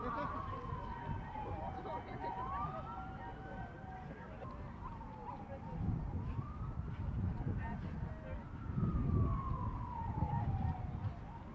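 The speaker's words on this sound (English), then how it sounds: "That siren is so loud." A loud siren wails at a river park beside Seoul's Han River, rising and falling in long sweeps over rumbling background noise for the whole stretch.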